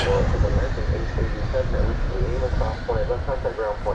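A Beechcraft airplane at DFW Airport gives off a steady, droning engine roar that holds at a fairly loud level throughout, with talk over it.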